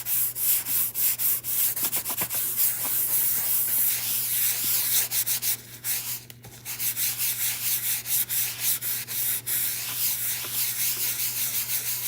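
Steady abrasive rubbing of paint in circular motions to antique a handmade gift, a close, continuous scrubbing texture with rhythmic swells and a brief dip midway.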